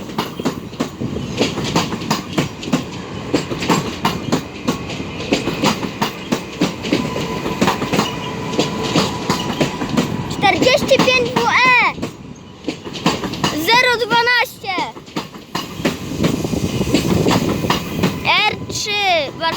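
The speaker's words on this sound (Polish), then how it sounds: "teraz będzie impuls odjeżdżał" An Impuls passenger train departs Warszawa Wschodnia station bound for Sochaczew, its loud wheels clattering rhythmically over rail joints throughout, with sharp high squeals rising midway and again near the end.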